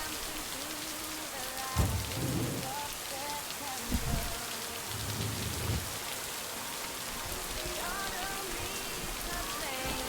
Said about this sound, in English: Nothing makes a game cozier than rain and good rain sounds.